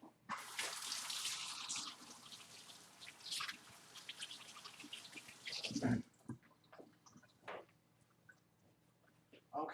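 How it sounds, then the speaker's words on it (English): Hands are rinsed under a running kitchen tap, a steady rush of water for several seconds that cuts off abruptly, followed by faint drips and handling sounds in a quiet room. "let me rinse my hands real quick"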